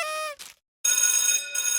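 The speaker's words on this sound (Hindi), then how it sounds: "फोन की घंटी बज रही है" A telephone bell rings in a comic-book story scene, sounding as bright, metallic ringing bursts separated by a short silence.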